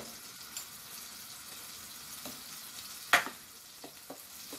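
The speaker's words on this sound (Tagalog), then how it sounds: "Nagpainit na ako ng kawali. Maglagay na ako ng butter." Butter melting in a heated frying pan before hotcake batter goes in, a soft steady sizzle with a few small pops and one sharper crackle, close and quiet.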